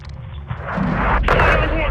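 Artillery rounds exploding in the Call of Duty Modern Warfare 2 campaign, heavy rumbling blasts that swell and sustain under radio voices and soldiers talking.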